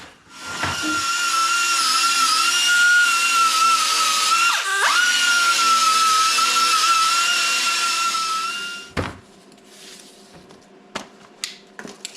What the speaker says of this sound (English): I will sand that down and smooth that up